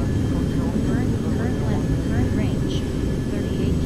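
A steady, dense roar from an airliner's engines fills a flight simulator game as the plane descends toward an airport, loud and constant with faint warbling tones above, while someone talks over it.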